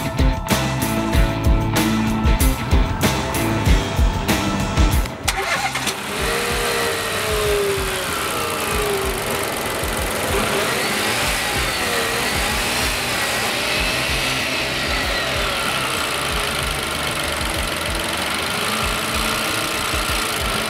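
Renault Captur engine cranks and catches after a few seconds of rough clatter, then settles into a steady, even idle hum that continues to the end.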